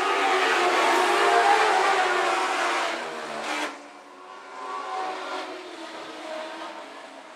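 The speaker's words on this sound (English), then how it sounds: "Lap number one of Jerry Hunter" Dwarf race cars roaring past on the dirt oval at Phillips County Raceway, a loud engine wash that swells, drops off sharply midway, then builds again as more cars come around, heard from trackside.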